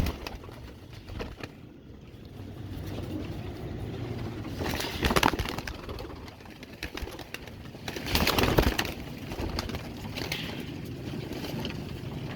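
Pigeons of the Kasni and Saleti Kamangar breeds coo softly in a loft, with low murmuring calls and rustling against a steady background hum, and a few louder bursts around them.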